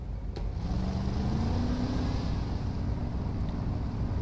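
A truck engine in SnowRunner drones low and steady for several seconds, with a faint rising tone as it revs. No talking is heard over it.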